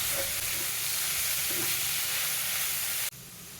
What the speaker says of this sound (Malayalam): ഇനി ഇതിലേക്ക് ക്രഷ് ചെയ്ത് വെച്ചേക്കുന്ന ചിക്കനും അതുപോലെ തന്നെ നേരത്തെ നമ്മൾ റെഡിയാക്കി വെച്ച അരപ്പും കൂടെ ചേർത്ത് നന്നായിട്ട് മിക്സ്